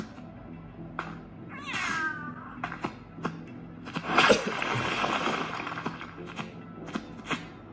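A cat in the Ice Scream horror game meows briefly, and a burst of splashing follows, all over faint clicks and background game sounds.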